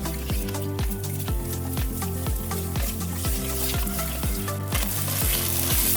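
Eggs frying in a pan as the first step of Spam fried rice (nasi goreng), giving a steady, loud close sizzle with faint crackles throughout and no voices.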